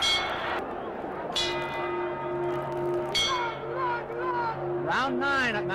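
Ringing boxing round bell at a Madison Square Garden bout, a bright metallic clang with long sustained tones, struck several times in succession over a steady crowd murmur and distant commentary.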